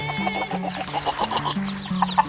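Village chickens, chicks and hybrid laying hens cluck and murmur close by, with repeated low clucks and a few higher chirps in a busy, uneven rhythm.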